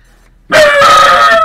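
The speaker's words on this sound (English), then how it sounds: "I really wish the dog hadn't started barking like that right behind me" A dog barks once loudly and close behind the microphone, a single sustained yelping bark lasting about a second after a quiet start.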